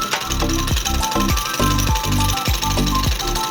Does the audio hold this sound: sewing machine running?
yes